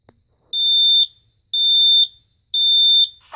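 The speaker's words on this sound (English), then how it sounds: "This is the talking alarm." A home smoke detector with a talking alarm, sounding during a test, gives three loud, piercing beeps of about half a second each, evenly spaced a second apart, with no voices.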